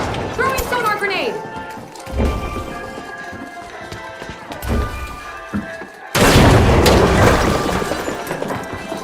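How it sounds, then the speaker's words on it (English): A sonar grenade thrown in the shooter game The Finals: dull thumps and game clatter, then a loud, sustained broadband blast that fills the final few seconds. "Throwing sonar grenade!"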